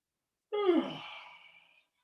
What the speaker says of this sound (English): we're going to turn our head to one side and we're going to yawn